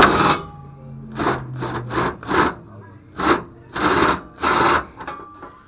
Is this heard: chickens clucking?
no